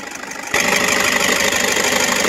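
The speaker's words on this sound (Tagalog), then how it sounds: "smooth and quiet engine" A Toyota GL Grandia van's 2.5-liter D4D diesel engine idles smoothly at close range, a steady even rumble that starts up partway through and holds at a constant level with no voices.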